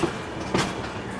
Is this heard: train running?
yes